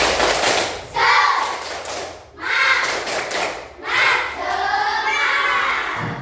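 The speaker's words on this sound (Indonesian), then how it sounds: "Coba tepuk semangat." A classroom of pupils performs a rhythmic 'tepuk semangat' clapping chant, bursts of group clapping mixed with chanted voices in repeated phrases, close and lively, with short pauses between sections.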